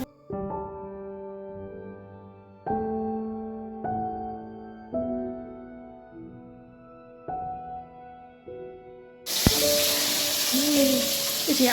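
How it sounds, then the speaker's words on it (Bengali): Cauliflower pakoras are frying in hot oil. After a long stretch of sustained tonal notes, a loud, dense crackling sizzle bursts in and continues to the end. "এখানে ফুলকপির পকোড়াগুলো ভেজে নিচ্ছি"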